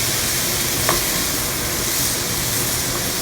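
Tomatoes go into a hot pan of frying mushrooms, and a steady close sizzle and hiss rises with one brief clatter near the start.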